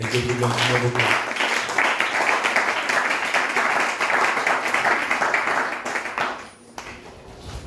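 A church congregation applauding the Lord during a service, sustained dense clapping from many hands over a low hum, fading out near the end.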